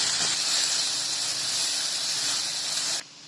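Onion, tomato, tamarind and rock salt sautéing in a pan give a loud, steady sizzling hiss that holds evenly for about three seconds, then cuts off abruptly.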